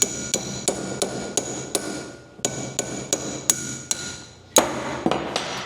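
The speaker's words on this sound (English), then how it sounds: "Take your small spanner, take your big one, whack it." Sharp metallic strikes of a spanner hammered against another to loosen BC Racing coilover lock rings on a 350z, about a dozen evenly spaced ringing whacks with a short pause midway.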